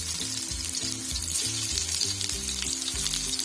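Green pea kebabs sizzle steadily in hot oil over a full gas flame, a dense bright crackle running without pause and nobody speaking.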